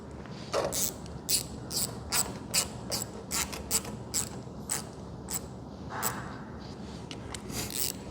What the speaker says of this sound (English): You see where my finger is on this ratchet.